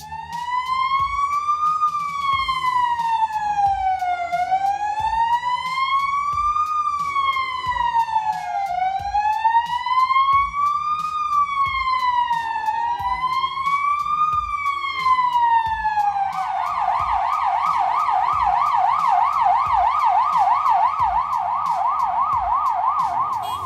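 An ambulance siren wails up and down in slow sweeps, then switches to a fast yelp, loud and close over a low engine hum, in a traffic jam.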